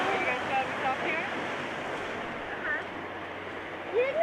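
Ocean waves wash onto the shore near a lighthouse on the Maine coast, a steady surf roar with gusts of wind across the microphone, swelling slightly at the start and end, while people talk nearby.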